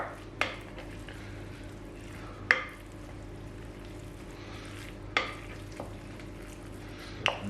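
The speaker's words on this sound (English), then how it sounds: "Now we just need to fold that in to the rice" Sushi rice being folded with a Japanese rice paddle, soft sticky stirring and scraping under a quiet background, punctuated by four sharp taps or knocks at regular intervals.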